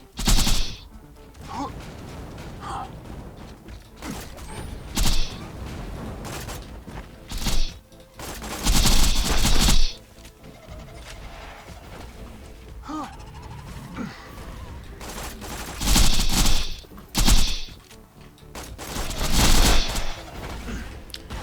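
Bursts of gunfire in Borderlands 2 break out repeatedly, loud and close, with rapid automatic volleys and single shots separated by quieter gameplay sounds and speech.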